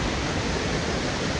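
A swollen river in Glencoe rushes after heavy overnight rain, making a loud, steady, close roar of water with no pauses.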